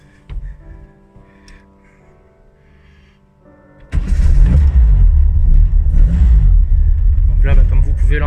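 A quiet idle hum with faint ticks, then a modified 1970s car engine roars to life and revs loudly and deeply, rumbling and surging close by.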